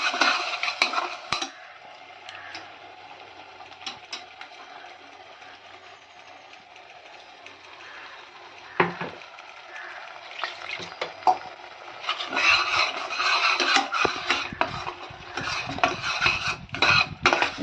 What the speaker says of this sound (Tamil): இப்போ நல்லா வதங்கிடுச்சு, தக்காளி வதங்கிடுச்சு.